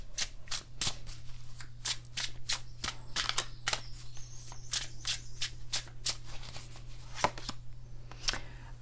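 Tarot cards are shuffled and drawn by hand: a rapid series of crisp snapping riffles and card flicks, close and fairly quiet over a steady low electrical hum.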